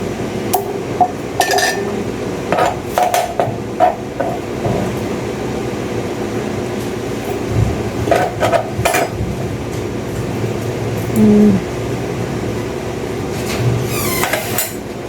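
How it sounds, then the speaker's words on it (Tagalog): Omelette ingredients, including ham and chopped onion, stirred together in a pan: a close series of sharp metallic clinks and scrapes in irregular bursts over a low background hum. "Ito na yung time ihalo-halo na natin lahat ng ingredients."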